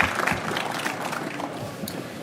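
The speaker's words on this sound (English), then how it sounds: "a loud and thunderous round of applause for these great individuals up here" A conference audience applauds the panel speakers at the close of a session on securing critical infrastructure, a moderate wash of clapping that gradually tapers off.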